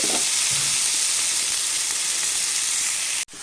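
Strained spinach drops into hot oil and fries with a loud, steady sizzle and hiss, a few faint stirring knocks at the start, cutting off abruptly near the end.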